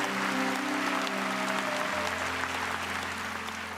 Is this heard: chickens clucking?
no